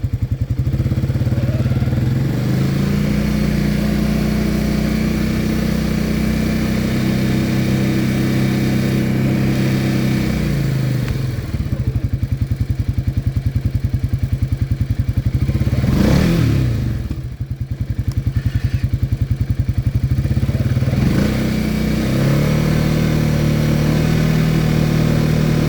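A tractor drags a disc harrow across a food plot being disced, its engine a steady, loud mid-pitched drone that rises and shifts through the pass with no talk.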